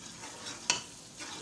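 A masala of garlic, tomato and green chili fries in oil in a pan, a steady soft sizzle broken by one sharp spatter as it is stirred.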